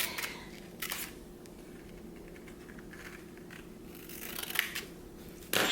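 Scissors snip through paper cutting out shark teeth, a few sharp crisp cuts near the start and end separated by quiet, close-up handling noise.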